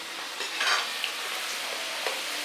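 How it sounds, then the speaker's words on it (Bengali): Mung dal sizzles and hisses steadily as it fries in foaming oil for dalmoth, with occasional light stirring clinks and no talk. "কম কম দিয়ে ভাজতে হবে"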